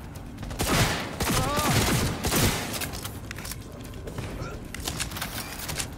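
Rapid gunfire from a gun in the video game Cyberpunk 2077, loud dense bursts packed together up close, fading into lighter scattered shots and game ambience.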